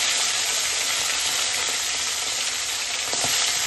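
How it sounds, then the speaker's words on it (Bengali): Pieces of katla fish fry in hot oil in a pan, giving a loud, close, unbroken sizzling hiss with faint spatters and no voices. "এবার আমি মাছগুলোকে একে একে তেলের মধ্যে ছেড়ে দেবো।"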